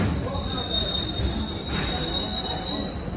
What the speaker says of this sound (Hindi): ये कश्मीर की लोकल ट्रेन है।